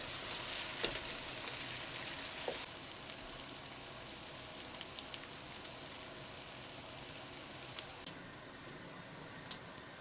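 Chicken frying in a pot with spice paste, a steady close sizzle and crackle with a few louder spits and stirring clinks, no voices.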